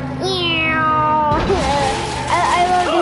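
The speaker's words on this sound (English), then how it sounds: "Just a normal black cat." A black cat in the Lego Harry Potter video game meows loudly, a drawn-out rising and falling cry followed by a second wavering meow, clear and close over the game's sound.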